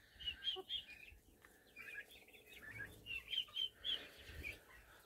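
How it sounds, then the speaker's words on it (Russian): Small chicks peeping and clucking in a poultry pen: a cluster of high, rapid chirps and soft clucks in irregular bursts, close but fairly quiet against a faint low background rumble. "Вон самые мелкие цыплята."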